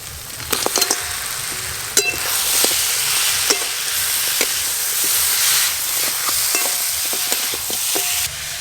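Spiced masala frying loudly in a pan with fried fish heads, a strong continuous hissing sizzle broken by sharp clanks and scrapes of the stirring spoon, no voices.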